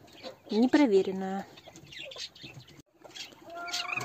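A young hen clucks softly in short bursts, mixed with a few higher calls, while a person speaks quietly nearby.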